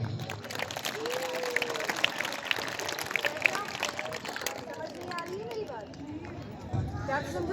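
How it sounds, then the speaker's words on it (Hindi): Children's Day celebration audience gives a round of applause after a performance, a dense spattering of claps and crowd noise with voices talking over it, thinning out toward the end. "Let's give sir one more big round of applause."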